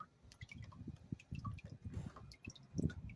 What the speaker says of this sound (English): I'm going to let this water go out.